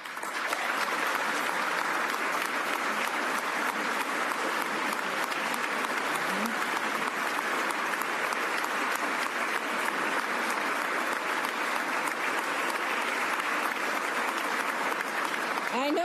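Sustained applause from a large audience at a Massachusetts State of the Commonwealth address, steady and fairly loud throughout, with no break.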